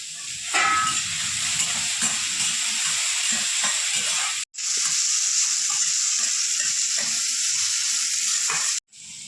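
Chopped tomatoes sizzling and frying loudly in a pan for prawn rice, a steady close hiss broken by a couple of brief pauses, with no talking.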